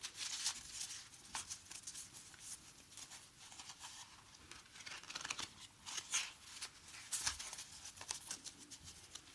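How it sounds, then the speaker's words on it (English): Tarot cards being handled and laid out one by one in a soft-spoken tea-and-tarot reading, with light papery shuffles, slides and taps recurring steadily and close up throughout. "Let's put these away and we'll lay the deck out."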